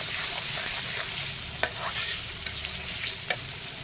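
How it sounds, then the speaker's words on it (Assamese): Chicken meat sizzles and fries in a hot pan, with a spatula scraping and stirring at intervals, close and steady, no talking. "তাৰপিছত ধুনীয়াকৈ লৰাই লৰাই মাংসখিনি ভাজি ল'ম"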